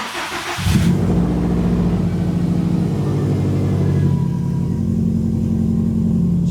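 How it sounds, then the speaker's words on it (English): A 2017 Subaru STI with a newly installed fuel pump cranks briefly and fires up, settling into a loud, steady idle with a low rumbling hum that continues to the end. "We're about to start the car."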